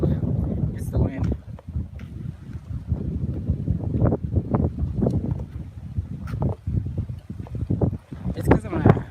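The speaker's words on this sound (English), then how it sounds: "I pretty much just came outside so you guys can hear the wind and see the clouds and stuff" Gusty outdoor wind buffets the microphone in a heavy, uneven low rumble that swells and dips throughout, with a voice heard intermittently under the roar.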